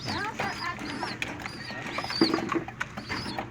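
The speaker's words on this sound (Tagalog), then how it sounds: "Yan mga kalapatid" Homing pigeons coo softly at close range, low throaty murmurs mixed with light rustling and pattering, while a person speaks over them intermittently.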